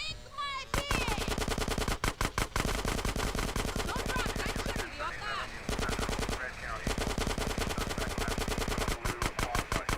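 Automatic gunfire in GTA San Andreas, rapid dense bursts of shots rattling almost continuously with brief gaps, loud and up close, with a voice heard now and then.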